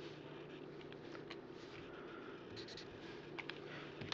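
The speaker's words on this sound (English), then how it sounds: "I'm going to write them down here at the bottom" Pen scratching on paper while jotting something down at the bottom of a page, a soft continuous scribble with a few sharper strokes, close and quiet, no talking.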